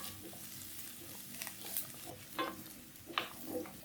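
Vegetables for a roasted-coconut varutharacha sambar wilting in hot coconut oil in a pan, heard as a faint low sizzle with a few soft stirring scrapes and clinks, no voices.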